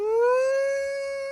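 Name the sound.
doomsday warning siren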